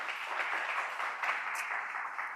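A church congregation applauds with a soft, fairly distant wash of clapping, steady and unbroken, with no voices over it.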